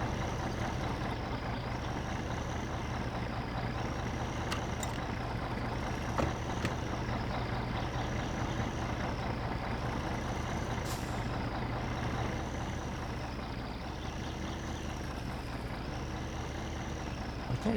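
A big truck approaching in the driving game My Summer Car, a steady loud diesel engine drone with hissing air-brake bursts, continuous throughout and slowly building.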